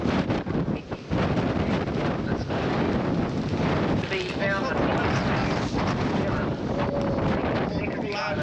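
Strong wind roars continuously across the microphone on a boat cruising the fjords of Fiordland, New Zealand, loud and gusty throughout, with faint voices partly buried beneath it.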